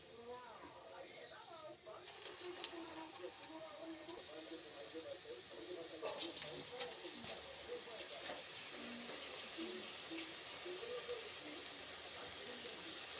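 Okra pakodi batter fries in hot oil, giving a quiet, steady sizzle with small scattered crackles. It runs throughout while a soft voice talks.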